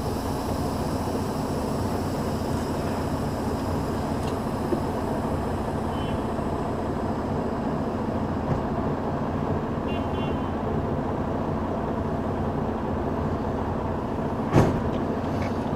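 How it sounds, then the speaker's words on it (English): A semi truck idles steadily at low pitch while backing slowly under a trailer for coupling, a continuous engine drone with a sharp clunk near the end as the fifth wheel meets the trailer. "Put the truck in reverse. Release my brakes. I'm going to back up underneath the trailer."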